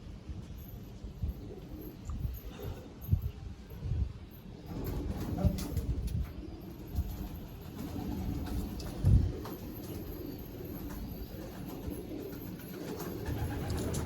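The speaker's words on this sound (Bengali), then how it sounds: "এই সীসা খতেনগড়েরও পায়রা আছে, তামড়া পেটিয়া, দোয়াশ একদম সবই আছে" Pigeons of several fancy breeds cooing inside a crowded loft, a steady low murmur of overlapping coos with occasional louder flutters and bumps, no talking.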